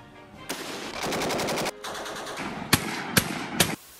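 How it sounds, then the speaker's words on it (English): Browning automatic rifle (BAR, M1918) firing in the World War II strategy game Company of Heroes 3: a sustained rattling automatic burst, a pause, then further bursts and three sharp separate shots, loud and close, with no talk. "There's only one weapon more synonymous with riflemen than the M1 Garand, and that's the Browning automatic rifle."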